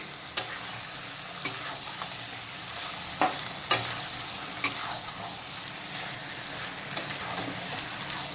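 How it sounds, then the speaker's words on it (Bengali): Pointed gourd being stirred with potatoes and spices in a pan, a soft ongoing scrape and faint sizzle punctuated by several sharp spatula knocks against the pan, close and alone without talk. "এখন পটলগুলোকেও একইভাবে হালকা করে নাড়াচাড়া করে নেব মানে আলু আর মশলার সঙ্গে একটু ভালো মতো মিক্সড করে নেব"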